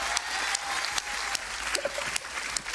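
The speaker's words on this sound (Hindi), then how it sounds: "पहली बात तो लम्मी इंडिया के लिए एक तालियां बजा दो" Studio audience on a kids' TV talent show clapping, a fairly close, steady patter of applause with a few sharper hits and faint music underneath.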